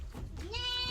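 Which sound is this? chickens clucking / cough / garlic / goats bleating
goats bleating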